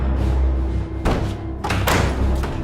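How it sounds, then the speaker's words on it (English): Loud banging on an office door in a horror film, several heavy thuds in quick clusters over a low ambient hum, close and forceful. "Dr. Lang is in his office and he hears loud banging on his office door."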